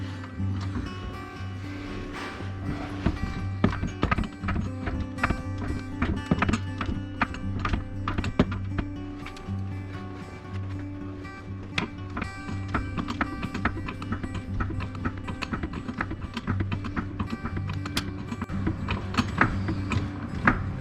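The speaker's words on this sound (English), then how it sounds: "It looks like the jack isn't quite centered, but I think that's close enough, so I'm going to continue jacking." Car jack raising a Subaru: repeated ratcheting clicks and mechanical clunks in an irregular rhythm, close and continuous throughout.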